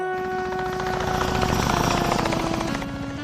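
A helicopter with a steady rotor drone and engine hum, swelling louder toward the middle and easing off at the end, heard alone without talk.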